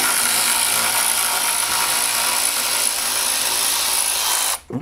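A cordless drill runs steadily on 10mm bolts holding the clutch cover of a 2002 Yamaha G22 gas golf cart, a loud continuous whir that stops abruptly near the end.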